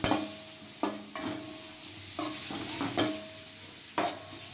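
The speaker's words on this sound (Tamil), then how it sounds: "வெங்காயம், இது கொஞ்சம் சவக்கட்டும்." Onions frying in a pan for a Keelakarai chicken gravy, with a soft continuous sizzle broken by several sharp scraping stirs of a spoon against the pan at irregular intervals, close and clear, with no talking.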